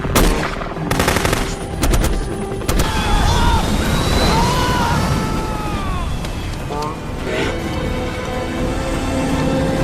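Rapid bursts of rifle and machine-gun fire from an action movie shootout crackle loudly at the start, followed by echoing booms, whizzing ricochets and a dense, chaotic battle mix.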